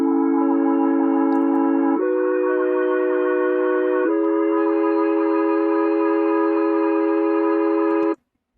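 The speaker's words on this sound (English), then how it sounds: "this sound is the chords" Sustained synth chords from a zinc one-shot sample hold steady in three long blocks that change pitch about every two seconds, bright and buzzy with reverb, then stop abruptly.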